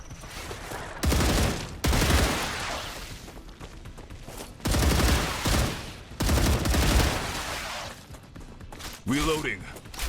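Enemy shooters in the video game StarRupture fire repeated bursts of gunfire, several loud rapid volleys separated by short pauses, with a brief electronic tone near the end.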